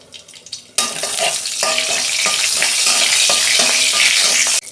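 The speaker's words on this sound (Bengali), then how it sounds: "কড়াই তেল দিয়েছি, আমি অল্প 5 ফোড়ন দিচ্ছি।" Five-spice tempering hits hot oil in a wok after a quiet start, bursting into a loud, steady sizzle with rhythmic crackles and pops throughout, no voices.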